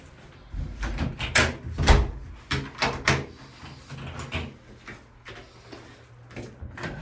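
An apartment exit door serving a single unit opens and closes in a series of close thumps and knocks, some sharp and slam-like, with handling rattles between them and no talk.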